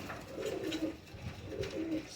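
Soft pigeon coos in two low, rolling bursts with a pause between, close by over a faint background hum.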